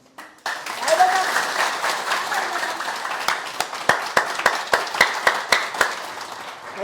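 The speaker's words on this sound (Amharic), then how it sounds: "እጃችሁ ደም ተስከሚል አጨብጭቡ።" An audience at a business training session claps loudly and steadily, a dense wash of applause that turns into a run of slower, evenly spaced sharp claps near the end, with a voice speaking briefly.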